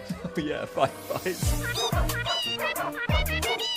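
A bouncy Pokémon Sword/Shield game melody built from pitched dog barks and yips plays in quick rhythmic runs, with a voice speaking briefly over it.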